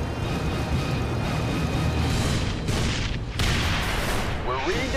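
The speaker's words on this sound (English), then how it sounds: "We're reading detonations" Explosive charges detonate to destroy a ship in a military video game, a sustained roar of booms and rumbling blasts with a second surge midway, loud and close, with faint radio-style talk mixed in.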